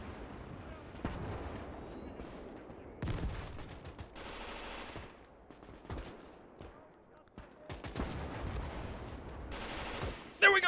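Gunfire from soldiers in a Gates of Hell battle, with sharp bursts and rattling volleys that come and go at middle distance and a loud crack at the close.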